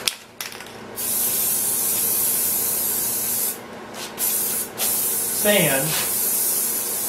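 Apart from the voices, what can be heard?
spraying clear coat sealer onto habitat rock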